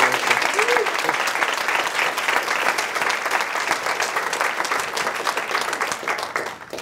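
An audience applauds steadily for several seconds, a dense, moderately loud patter of many hands clapping that eases slightly at the end.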